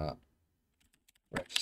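A few quick, light keystrokes on a computer keyboard during web coding, sitting in a short quiet gap between bursts of a person talking.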